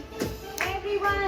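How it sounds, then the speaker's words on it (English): About three quick, close hand claps come in a short burst, with a voice mixed in. "everyone clap your hands."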